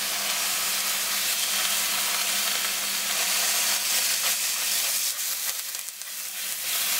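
Ground beef or other food frying on a stove turned up high, giving a loud, steady, close sizzle that runs without a break and dips only slightly near the end.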